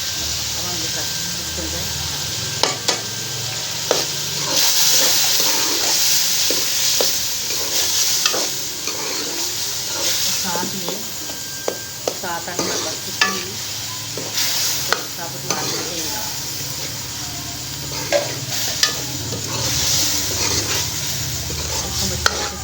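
Mutton keema is fried with turmeric, whole garam masala, cumin, black pepper and salt: a continuous close sizzle and hiss is punctuated by repeated sharp scrapes and taps of the spoon against the pan, with a voice talking over it.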